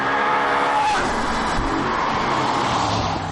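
An Audi RS4 is driven hard on a race circuit, with its engine revving loudly and tires squealing through a corner, close and sustained for several seconds.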